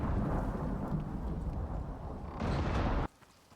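Thunderstorm in the survival video game Icarus: a continuous heavy broadband rumble of rain and rolling thunder that swells briefly louder near the end, then cuts off abruptly to a quiet low background.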